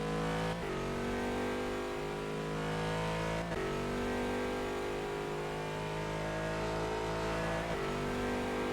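A race car in a Bahrain endurance racing video game accelerates hard out of a turn, its engine note climbing through rising harmonics in several steady pulls, each broken by a brief dip at a gear change.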